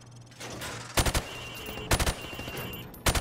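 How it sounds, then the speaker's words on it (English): Rifle fire from the hip at range targets in Call of Duty: Modern Warfare Remastered, three loud bursts of rapid shots roughly a second apart over a low steady hum. "Now, shoot at the targets while firing from the hip."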